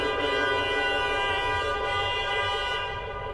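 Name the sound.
car horn honking in traffic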